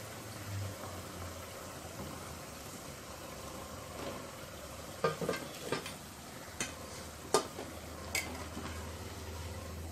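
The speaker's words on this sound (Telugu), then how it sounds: "ఇదే విధంగా మిగిలిన గారెలను కూడా వేయించుకుందాం." Little millet vadas fry in hot oil with a soft, low sizzle, punctuated by several sharp clinks and scrapes of a utensil against the pan.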